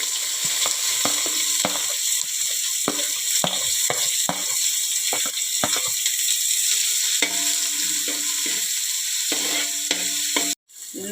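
Chopped onion fries in a pan for upma, with a constant sizzle under repeated scraping strokes of a spoon stirring. A sharp clatter comes near the end, then a brief drop to quiet.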